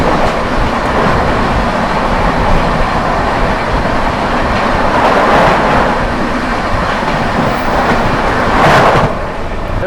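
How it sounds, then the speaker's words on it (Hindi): Sampoorna Kranti Express passenger train rolling past a crossing, a loud continuous rumble with rhythmic wheel clatter and rising squeals as the coaches go by close. "सामने से आती हुई आम जनता की राजधानी संपूर्ण क्रांति एक्सप्रेस"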